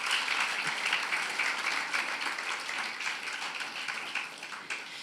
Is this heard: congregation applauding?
yes